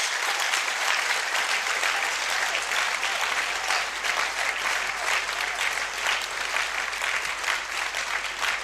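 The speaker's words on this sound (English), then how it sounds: "shall we give them a very big round of applause?" Steady, dense applause from an audience fills the hall at a university distance-education awards ceremony, holding evenly for the whole stretch without voices breaking through.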